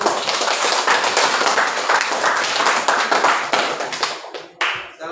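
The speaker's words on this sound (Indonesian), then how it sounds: "Tepuk tangan untuk kelompok 1." A classroom group applauds student group 1 after a presentation, with close, lively clapping from a small crowd that fades and breaks off near the end, leaving a few last claps.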